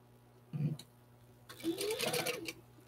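A sewing machine stitches a pencil case in a short, close, rattling run of about a second, after a brief soft clunk, with a voice speaking over the stitching.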